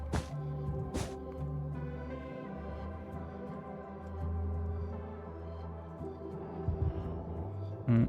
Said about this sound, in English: Basically, you just listen for the heartbeats.